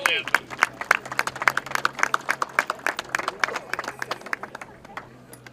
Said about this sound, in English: give Vanessa Salvucci a nice round of applause